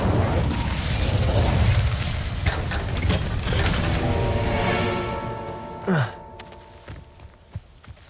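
Confringo explosive spell cast in Hogwarts Legacy, a game: a deep rumbling blast with layered crackle that builds and then decays, followed by a sharp pop and a few scattered clicks.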